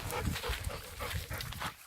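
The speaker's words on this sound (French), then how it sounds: "Texas, la petite border qu'on a gardée de la Portée du Sud, de chez mon ami." A young female border collie makes soft panting, snuffling sounds close by, low and continuous over a faint noisy background.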